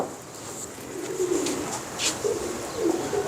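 Pigeons coo in soft, repeated low phrases, fairly close, over a quiet background with no one speaking.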